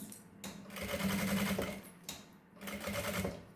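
A sewing machine stitches a seam around a mesh fabric pouch in rapid bursts, pausing briefly between runs, close and clear with no talking.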